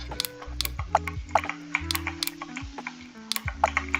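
Rapid clicky keystrokes from a mechanical keyboard in an internet cafe simulator game session, close and crisp, tapping in uneven bursts over a low background hum.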